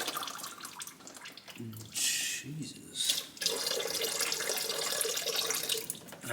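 Coolant pours and splashes steadily out of the water pump of a 1987 Toyota 4Runner close by, a continuous watery rush broken by brief gaps, with a short exclamation from a voice partway through.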